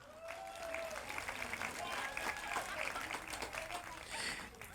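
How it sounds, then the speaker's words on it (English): A crowd at an outdoor community walk event claps for a food truck, a moderate wash of scattered clapping with voices mixed in underneath. "give the food truck a round of applause"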